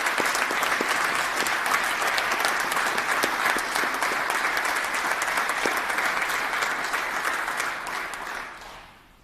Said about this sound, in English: So if you could please join me giving them a round of applause.